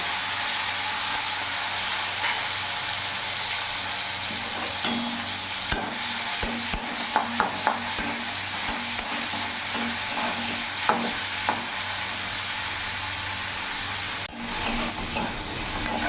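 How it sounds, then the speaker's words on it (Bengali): Shrimp frying in hot oil seasoned with salt and a little turmeric gives a loud, steady sizzle throughout, with scattered clicks of stirring near the pan. "তেলের মধ্যে লবণ দিয়ে দিলাম, সামান্য অল্প হলুদ গুঁড়ো দিয়ে দিলাম, এরই মধ্যে চিংড়ি মাছগুলো দিয়ে দেবো।"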